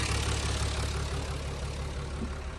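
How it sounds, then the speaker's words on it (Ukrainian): A John Deere 3040 tractor engine idles smoothly and quietly, a steady low rumbling hum that runs alone without change. "Моторчик працює без вібрацій, тихесенько."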